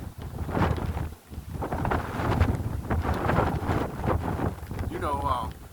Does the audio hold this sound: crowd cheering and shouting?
no